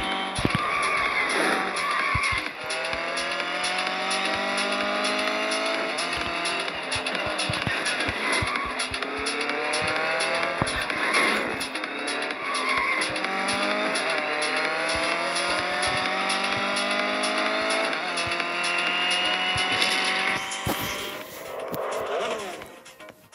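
Racing car in a video game, engine roaring steadily with long sweeping tire squeals and skids throughout, loud and continuous, ending in a short crash-like burst with no speech.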